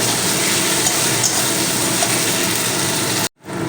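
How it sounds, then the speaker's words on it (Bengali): Spices being stir-fried over medium heat in a pan for a crab (kangra) curry give a steady, loud sizzle and scrape that runs unbroken for over three seconds and then cuts off abruptly. "মশলাটা মিডিয়ামে রেখে রেখে মশলাটা আমি কষিয়ে নেব একটু সময় নিয়ে কষাতে হবে"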